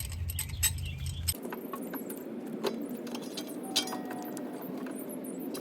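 A C-clamp is screwed down against an old brake pad to push the pistons back into a front brake caliper on a 2005-2009 Mustang GT, giving scattered close metallic clinks, ticks and scrapes after a brief low hum cuts off.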